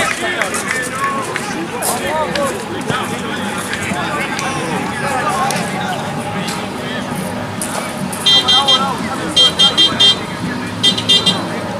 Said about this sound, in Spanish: esa no es una bocina de un auto, boludo, es una moto